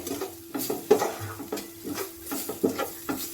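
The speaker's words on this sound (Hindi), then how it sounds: "तो अब इसे हम चला लेंगे। इसको भी हल्का हल्का फ्राई कर लेंगे।" Mushroom curry masala with cumin and black pepper powder being stirred and lightly fried over low flame, heard as a soft sizzle under rhythmic spoon scrapes and clinks against the pan, close and without talk.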